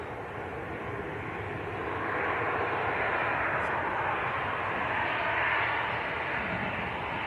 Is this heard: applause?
no